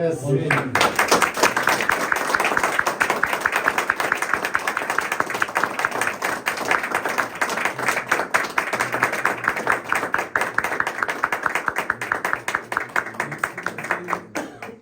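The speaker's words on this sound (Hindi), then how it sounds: "हमारी तालियों की आवाज़ इस बात की गवाही होगी कि यीशु मसीह ही इज़्ज़त जलाल के लायक है" A church congregation claps together in praise during a sermon, a dense, continuous, loud round of hand claps lasting throughout.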